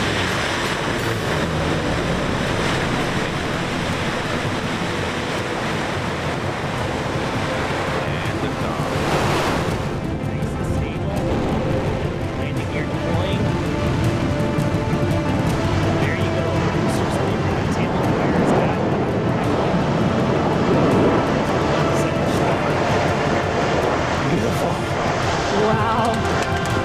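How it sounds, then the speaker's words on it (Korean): Blue Origin rocket launch with a continuous broadband roar, rumbling and hissing steadily for the whole stretch with no pause, while a voice occasionally speaks over it. "아마존 회장 제프 베조스가 설립한 민간 우주개발 회사 블루 오리진. 5, 4, command start"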